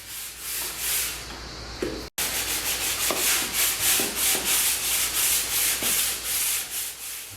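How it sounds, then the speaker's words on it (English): Steady rhythmic rasping of a hand sanding block with new sandpaper rubbing back and forth along wood edges, close and continuous with a brief pause partway. "just needed to go around all the edges with a hand sanding block"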